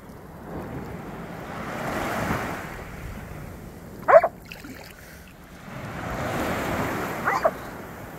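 Sea waves breaking on a shore in two slow swells that rise and fade, with wind buffeting the microphone and a couple of sharp splashes.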